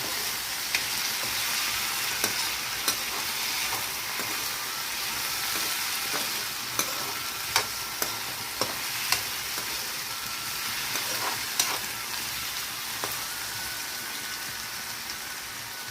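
Steady, close sizzling of potato slices frying in hot oil for potato chips curry, with occasional sharp pops and crackles over the continuous hiss.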